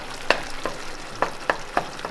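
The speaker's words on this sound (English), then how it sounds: "I'm gonna continue mix them until the sugar all dissolve" Brown palm sugar being stirred in a pan until it dissolves, with five or six crisp spoon scrapes spaced irregularly over a soft, steady sizzle and no talking.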